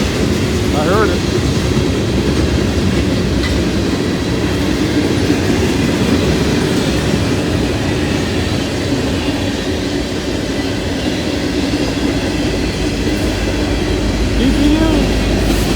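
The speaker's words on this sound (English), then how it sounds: "DPU on the back of the other train. Couldn't see it. I heard it." A Norfolk Southern freight train rolls past close by with a DPU locomotive at the rear, a loud continuous rumble of wheels with clickety-clack and occasional wheel squeal running the whole time.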